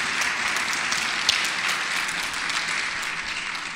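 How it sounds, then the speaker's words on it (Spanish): Applause from a church congregation during a Spanish-language sermon: a dense, steady wash of clapping that carries on unbroken for several seconds, with no voices over it. "Un aplauso a la hermanita."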